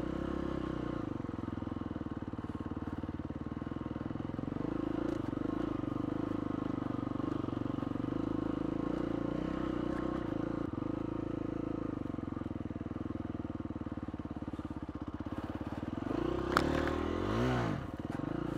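A KTM SX-F 350 dirt bike engine drones steadily throughout, with scraping and clattering as it rides over rough forest ground and branches, rising in a brief rev near the end.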